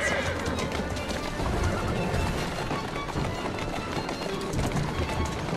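A horse whinnies over hoofbeats clopping along in Assassin's Creed Syndicate, with game background noise and some voice activity mixed in.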